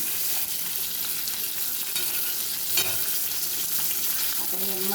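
Fish frying in a pan gives a steady, dense sizzle with bursts of crackling and the scrape of stirring, close by and loud throughout, with no talking.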